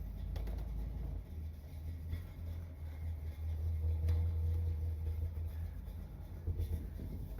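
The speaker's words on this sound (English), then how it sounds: "All right, she's idling good." A 1979 Corvette engine idles steadily with a low, continuous rumble, fairly close and even throughout, with a slight rise in the middle and no talk over it.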